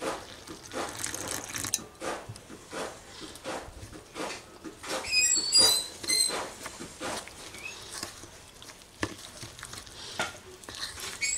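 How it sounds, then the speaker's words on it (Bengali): Water added to a batter for Bengali green pea cutlets and stirred in a bowl, giving soft wet sloshing and clicking mixing strokes in irregular bursts, close and moderately loud throughout. "এবার এর মধ্যে দিয়ে দেব জল।"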